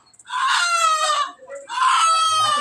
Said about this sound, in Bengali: বাড়ির মোরগ ধরছে আম্মু জবাই দেবে